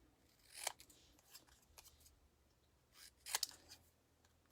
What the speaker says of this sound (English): I'm just going to cut that out with my paper snips.